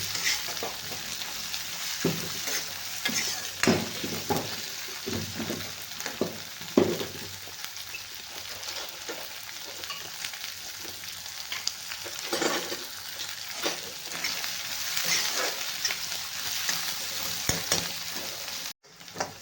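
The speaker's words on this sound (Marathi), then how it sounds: "कांद्याला आपल्याला छान मस्त असा लाल होईपर्यंत चांगला परतून घ्यायचा आहे" Onions fry in oil until reddish for kanda poha, a continuous close sizzle with repeated scraping stirs and spoon knocks, steady throughout and ending with a sharp clack.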